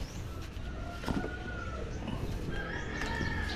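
Roosters and hens calling in a busy outdoor setting, with a few drawn-out crowing tones over steady background noise and scattered clucks.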